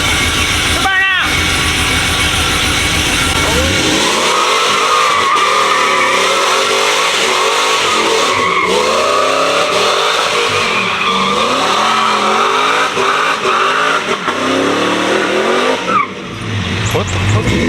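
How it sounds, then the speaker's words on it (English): A 750-horsepower truck with a cammed engine does a loud, close burnout. The engine revs rise and fall in repeated surges over continuous tire squeal and skidding, with excited voices shouting over it before it cuts off near the end. "The burnout! The burnout!"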